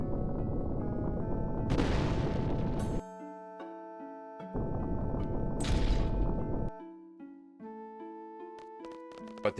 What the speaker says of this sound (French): Pas terrible comme explosion.